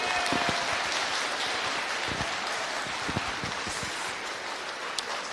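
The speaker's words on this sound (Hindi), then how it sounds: "तालियां बजाओ।" Audience applause with dense, steady clapping that stays loud and continuous throughout, a crowd responding together with no voices standing out.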